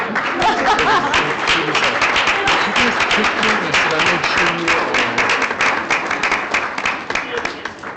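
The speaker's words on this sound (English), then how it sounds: "Please join me in giving all of them a warm round of applause." A board of education meeting audience claps steadily, with individual claps standing out close up, and voices murmur and talk underneath throughout.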